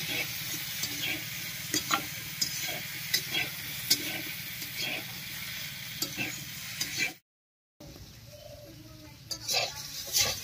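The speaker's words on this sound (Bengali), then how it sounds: "আলুগুলো বেশ কিছুক্ষণ রান্না হয়ে একটু ভাজা ভাজা মতো হয়ে গেছে।" Potatoes frying in a pan, stirred with a utensil that scrapes and taps against the pan in irregular strokes over a steady sizzle, with a brief silent gap partway through.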